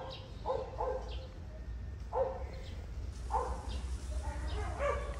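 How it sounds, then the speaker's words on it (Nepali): A dog barks repeatedly in a backyard garden, sharp yips and bow-wows in uneven bursts at moderate distance over a low background rumble. "कसो कुकुर भोगेको यसरी कुकुर भोगेर"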